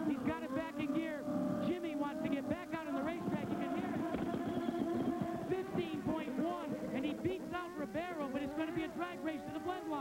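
An IndyCar engine at the 1996 Cleveland Grand Prix revs and pulls away from pit lane, its harmonics rising and falling under steady talk from a nearby commentator.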